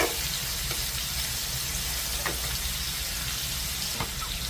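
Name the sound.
shrimp frying in pan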